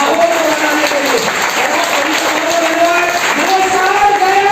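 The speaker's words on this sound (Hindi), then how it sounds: "एक बार सुनील शर्मा जी के लिए भी और सर के लिए दोबारा से तालियां चाहूंगा" Applause fills a leadership training event hall in Faridabad, sustained clapping from the crowd running throughout while voices and a tonal, music-like element sound over it.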